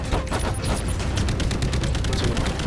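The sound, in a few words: missiles fired in video game COD Infinite Warfare Jackal Assault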